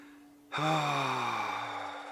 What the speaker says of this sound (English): just let out your breath however feels natural to you